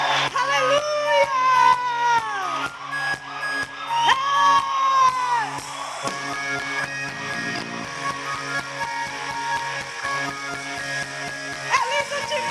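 A church congregation at a baptism service claps a steady, rhythmic beat alongside loud worship singing and music, with cheering voices in the mix throughout.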